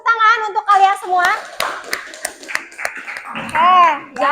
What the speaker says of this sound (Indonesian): Kasih tepuk tangan untuk kalian semua.